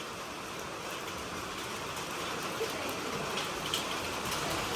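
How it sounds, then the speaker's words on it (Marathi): Hailstones fall in a steady, close, rushing patter of many small impacts, with faint sharper ticks scattered through it. No one talks. "तर खरंच गारा पडल्या बर का"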